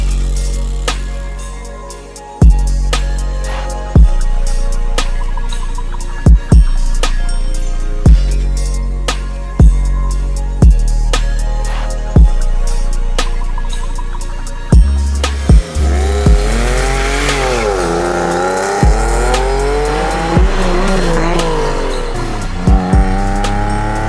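Porsche 911 of the 996 generation on a drive, its engine revving up again and again with sharp gear shifts between pulls, then a long rising acceleration. The engine sounds loud and close, heard from inside the car.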